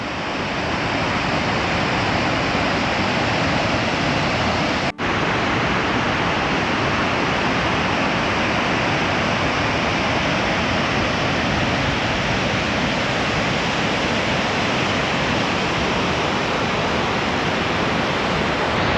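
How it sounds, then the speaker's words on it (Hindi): A hidden waterfall at Borgarfjörður in Iceland gives a steady, dense roar of falling water that stays loud and unbroken throughout, with no voices. "क्यों जी, कैसी लगी है वाटरफॉल?"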